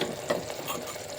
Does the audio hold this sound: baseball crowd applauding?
no